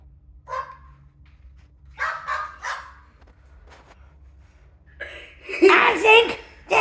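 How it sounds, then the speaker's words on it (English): A dog gives a few scattered barks and yips between quiet gaps, followed by a louder, denser burst of barking near the end, with a voice briefly heard too. "I think that is a dog."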